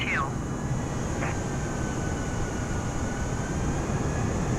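Airliner in Microsoft Flight Simulator 2020 rolling for takeoff from Monterrey, Mexico: a steady, even engine roar fills the clip, with a faint whine and a couple of brief chirps over it.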